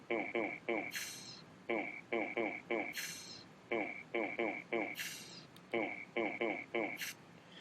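A looped background beat repeats in a steady rhythm, short punchy hits with higher bursts recurring every couple of seconds, clear and upfront.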